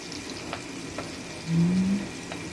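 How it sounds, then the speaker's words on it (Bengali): Papaya and potato frying in fish oil in a pan, giving a faint, steady sizzle with a slightly louder burst partway through. "আমি এখানে পেঁপে আর আলুটাও এই এর মধ্যে মানে ওই মাছের তেলের মধ্যেই ভেজে নিচ্ছি"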